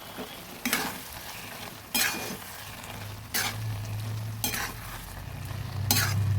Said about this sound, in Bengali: আগে সব মশলাগুলো মিশিয়ে দিচ্ছি